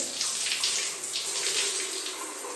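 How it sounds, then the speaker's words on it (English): Tap water runs steadily while a face mask is rinsed off, a loud continuous splashing hiss that holds alone for the whole stretch with small shifts in the flow. "And rinse this again."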